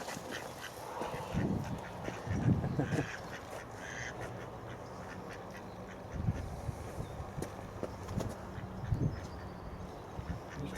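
Ducks around a garden pond quack in several loud, close bursts separated by quieter stretches, with faint rustling and outdoor background noise between the calls.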